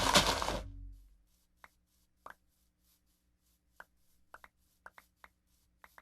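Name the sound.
mowing grass in Minecraft video game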